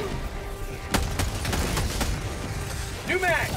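Scattered gunshots and booms from a chaotic Helldivers 2 firefight, sharp bangs at irregular intervals over a dense battle din, with a few whooshing effects near the end.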